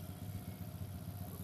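Small engine fitted with capacitors on the spark plug lead runs at a steady idle, faint and even for a moment with no talk.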